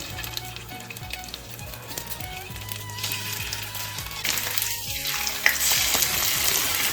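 Shrimp pieces sizzle in hot oil in a wok for a Chinese scrambled egg and shrimp dish, a steady bright frying hiss with a few soft clinks as they are dropped in one by one, growing louder toward the end.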